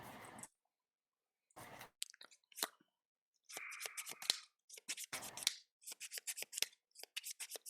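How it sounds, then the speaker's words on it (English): A deck of game cards for a Star Wars card game being shuffled: quick bursts of riffling and flicking separated by pauses, close and crisp, with no talking. "shuffling these up"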